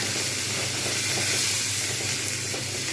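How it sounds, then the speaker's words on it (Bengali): Potatoes frying with onions in a pan, a steady soft sizzle and hiss continuing evenly without talk. "আলুগুলো পেঁয়াজের সঙ্গে ভাজা হবে"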